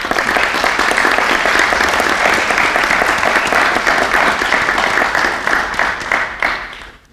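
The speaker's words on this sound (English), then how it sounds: "So please give yourself a well-deserved round of applause." An auditorium audience at the Whitman-Hanson Regional Community Evening School 2021 graduation ceremony claps in a dense, steady round of applause that holds for several seconds, then thins and tapers off at the end.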